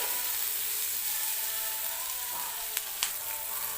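Chopped onion with a little salt fries in a pan for matar paneer, giving a soft, steady sizzle with two sharp clicks of utensil against pan near the end.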